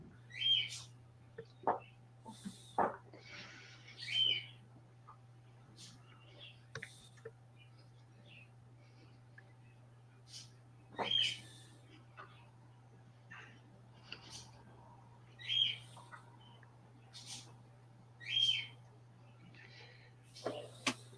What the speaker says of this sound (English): I hear a birdie. Yeah, I think my bird's hungry.